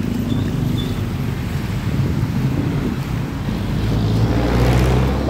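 Flood water in a Bulacan province town, heard as a steady low wash and rush of moving water with wind buffeting the microphone throughout, swelling slightly louder near the end, with no talk.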